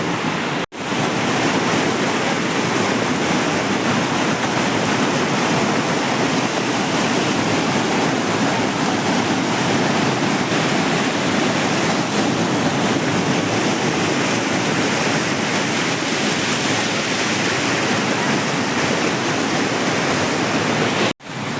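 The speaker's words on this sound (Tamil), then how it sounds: "பின்னாடி வாட்டர் ஃபால்ஸ் போடுற சவுண்ட்" A waterfall near Manali roars nearby, a loud, unbroken wash of rushing water that fills the whole scene at an even level.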